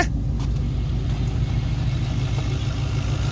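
A 5.3 LS V8 swapped into a second-generation F-body car with a TR6060 six-speed manual, idling steadily outdoors with a loud, even low rumble throughout and no talking.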